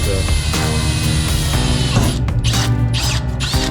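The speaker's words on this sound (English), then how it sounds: "We're just drilling out the 5 holes now." A power drill whirs and grinds in bursts close by, its pitch shifting as it bites into a clamped metal exhaust pipe, with mechanical rattling between runs.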